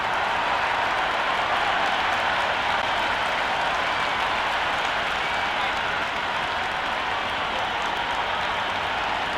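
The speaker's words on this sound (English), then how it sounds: "already the crowd is up and about" Steady crowd applause and cheering at a Big Bash League cricket match between Adelaide Strikers and Sydney Thunder before play begins, a broad continuous roar of clapping from a large stadium audience.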